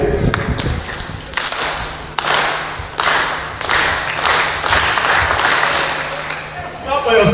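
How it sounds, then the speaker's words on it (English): A group of youths claps their hands together at a gathering, the clapping coming in several sharp bursts with brief pauses between them, close and loud, and voices are heard in between. "Put your hands together for yourself"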